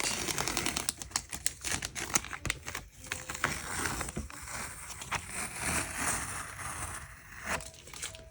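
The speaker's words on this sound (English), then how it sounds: "So let's remove the tape." Paper tape peeled off a paper drawing of a whimsical unicorn in a run of irregular crackling rips and ticks, close and fairly quiet, with no talking.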